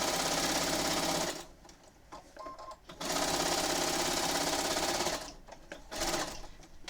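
A sewing machine whirs in loud, steady bursts of rapid stitching, pausing briefly twice before starting up again close by.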